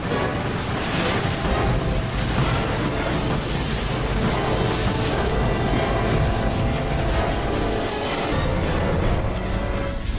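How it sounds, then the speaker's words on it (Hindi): High, stormy sea waves crash with a dense, continuous roar of surf that stays loud and close throughout, with no talking. "समुद्री लहरें इतनी ऊपर उठकर हमारी तरफ आ रही हैं। लहरें बहुत तेज हैं।"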